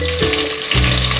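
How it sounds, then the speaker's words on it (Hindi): Chopped onions and tomatoes frying in hot oil for a homemade mutton curry, a close, steady sizzle with a brief stirring scrape in the middle; no one speaks. "प्याज टमाटर को अच्छे से भूनना है तेल में इस प्रकार से"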